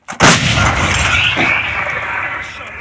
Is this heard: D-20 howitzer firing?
yes